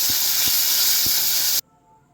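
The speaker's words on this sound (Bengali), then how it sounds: "এবার দিলাম টমেটো বাটা একটা মিডিয়াম সাইজের টমেটো" Ground paste of one medium tomato hits a hot pan with ginger paste, giving a loud, steady sizzling hiss for about a second and a half before it cuts off abruptly into quiet.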